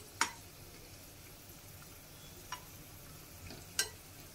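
Potato pieces fry in oil in a Bengali kitchen, a faint low sizzle under quiet room noise, punctuated by three sharp ticks or pops spaced about a second or more apart.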